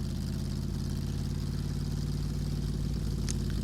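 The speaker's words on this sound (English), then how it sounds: "This is kind of a low revving, high displacement. It's got a great sort of engine noise to it." A Corvette C7 with a low-revving, high-displacement engine in a racing game at the Nürburgring GP circuit, a deep steady drone holding a constant pitch throughout, loud and continuous with no talk.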